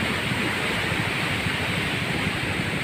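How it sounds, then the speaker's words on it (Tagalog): Floodwater from an overflowing river surges past farm fields of banana plants and vegetables in a monsoon storm, a constant loud rushing roar with no break. "Dumadaan yung tubig. Umapaw na yung ilog."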